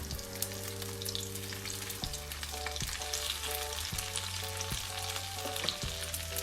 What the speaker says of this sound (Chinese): 然后再裹上一层蛋液，然后放到锅中小火煎